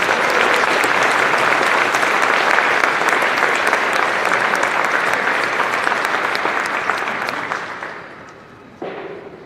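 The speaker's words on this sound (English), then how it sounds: "Would you please give these young people a round of applause?" Audience at a Mississinewa High School pops concert claps loudly and steadily for students, a dense sustained applause that gradually fades out near the end, followed by a single thump.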